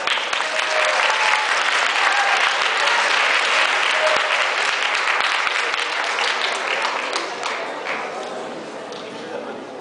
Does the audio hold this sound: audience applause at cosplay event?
yes